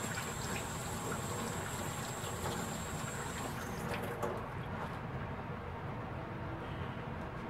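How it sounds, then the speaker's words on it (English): Hot running water rinses painted, resin-coated whitetail deer antlers, a steady close hiss and splash that holds even and unbroken throughout. "Hot water, the hotter the better."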